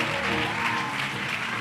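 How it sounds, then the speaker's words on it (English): An audience claps hands at a church gathering, a dense, steady burst of applause throughout with no pauses. "Clap hands for Jesus."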